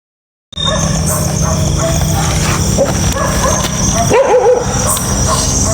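A dog up ahead barks and whimpers, giving a brief whiny yelp partway through over a constant loud rumbling background.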